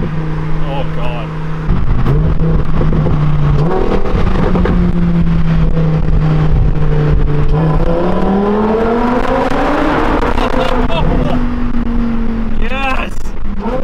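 A Lamborghini Huracan Performante engine revs and drones loudly, pitch climbing and falling as it accelerates, with a person talking excitedly over it.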